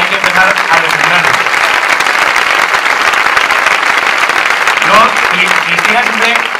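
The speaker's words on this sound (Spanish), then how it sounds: "un aplauso muy fuerte, porque hay que empezar a defenderlo" Loud, sustained audience applause at a Falange Española anniversary event, dense clapping with steady intensity, while voices talk faintly underneath.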